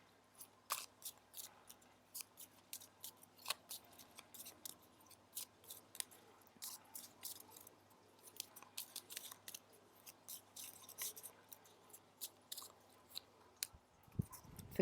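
Crisp, quiet riffling and flicking of playing cards, short bursts in irregular rhythm, close and soft with no voices.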